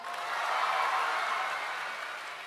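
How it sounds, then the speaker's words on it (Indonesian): A large crowd applauds together at a West Java governor's address during a school farewell video awards event. The clapping is a dense, even wash of sound that swells and then gradually fades over a couple of seconds. "Semuanya tepuk tangan"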